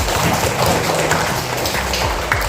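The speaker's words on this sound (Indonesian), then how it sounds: "tepuk tangan untuk kawan kita" A classroom gives a classmate a round of applause: dense, steady clapping from the group fills the whole short stretch at an even level, with no voices over it.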